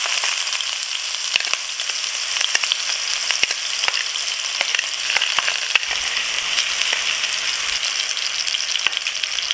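Onion and hot pepper fry in overly hot oil for a Trinidad curry, a steady, loud, close sizzle with a dense crackle and scattered sharp pops throughout, no talking.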